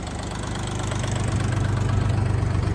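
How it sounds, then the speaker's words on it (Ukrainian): A Dongfeng 244 tractor engine idles steadily and close, a low rumbling drone with a regular knocking pulse throughout. "Трактор вже працює, і я одразу можу сідати на нього."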